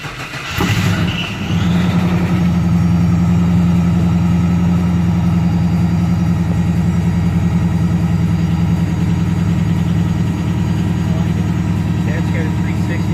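An AMC Javelin with a 360 V8 starts with a brief cranking burst, then settles into a loud, steady close-up idle with a deep, even throb that runs unbroken to the end.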